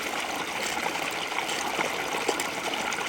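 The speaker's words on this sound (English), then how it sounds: "So basically I'm filling an empty Camelbak directly from the stream." Fast-flowing woodland stream in winter, water rushing and gurgling continuously and close by as an empty Camelbak is filled straight from it, with no talking.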